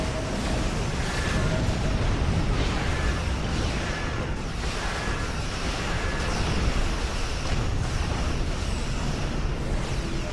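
A spread of starship torpedoes detonates in Star Trek Online, producing a dense, continuous rumble of overlapping blasts and crackling bursts that stays loud and unbroken throughout.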